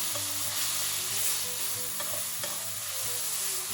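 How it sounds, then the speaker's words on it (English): Steady, loud sizzling of squash frying in a hot cast-iron spider pan, a continuous hiss with faint stirring scrapes and no voices. "you hear it sizzling"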